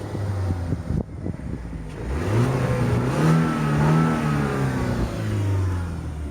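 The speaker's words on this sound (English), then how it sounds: "The 4-cylinder 2-liter engine." A 2010 BMW 318i E92 coupé's 4-cylinder 2-liter petrol engine revs up from idle, climbing and holding a raised pitch before dropping back to a steady idle, loud and close with no talk.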